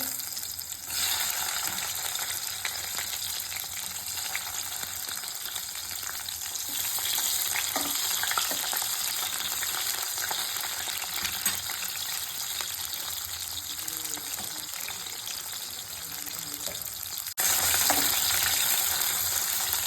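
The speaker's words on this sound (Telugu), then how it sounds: "ఉల్లిగడ్డలు బాగా వేయాలి మంచిగా" Onions fry in oil for a catla fish curry, a loud, unbroken sizzling hiss that runs steadily throughout, with faint stirring scrapes and a brief dip near the end before it resumes.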